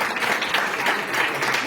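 Conference audience at a United Nations international event giving a round of applause, a dense, continuous wash of clapping heard from some distance, moderately loud and steady throughout.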